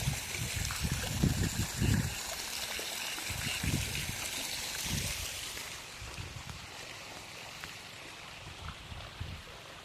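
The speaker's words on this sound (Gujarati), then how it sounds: "અને આજ પાણી ચાલુ કરી દીધું માંડવીમાં. તો અહીંયાથી આપણી મોટર ચાલુ છે વાવમાંથી." Irrigation water from a well pump flowing through a field channel, a steady trickling stream with low bubbling bursts early on, fairly faint, with no clear speech.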